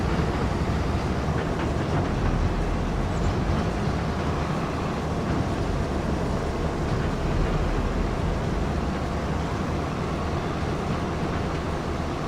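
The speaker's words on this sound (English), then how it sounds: "Sounds like a train." A train in the Farming Simulator 25 video game passes with a steady, loud rumbling roar that holds constant for the whole stretch, broadband and continuous with no talking.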